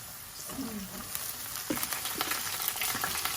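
Onion frying in a pan before flat beans go in, a continuous close sizzle with spatula scrapes and stirring taps growing busier toward the end, no talk.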